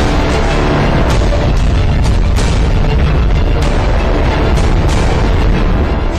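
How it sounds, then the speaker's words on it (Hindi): A plane crashes into a shopping centre in Melbourne, Australia, and explodes, producing a sustained, loud roaring rumble with dense crackling bursts throughout, heavy and unbroken from start to finish. "यहाँ एक जोरदार धमाके के साथ आसमान में आग और धुएं का गुबार उठा।"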